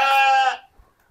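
A goat or sheep in a livestock pen at a goat and sheep farm lets out a single loud, close bleat lasting about half a second, followed by near silence with a faint thump.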